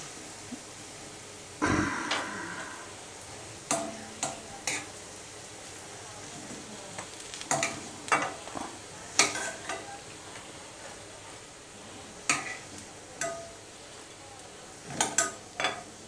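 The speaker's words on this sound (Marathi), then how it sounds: "ह्या पद्धतीनं सर्व आपण वड्या भाजून घेऊया" Kothimbir vadi, coriander fritters, shallow-fry in a pan under a soft, continuous sizzle, broken by scattered sharp clinks and scrapes of a utensil against the pan at irregular intervals.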